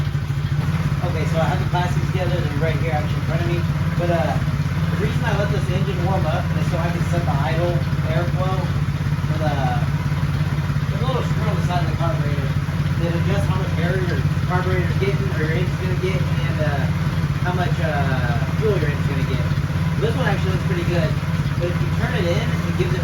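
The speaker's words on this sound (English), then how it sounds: "the reason I let this engine warm up" A quad ATV engine idles steadily while warming up, a constant low hum with light clatter running throughout, and a person talks over it nearly the whole time.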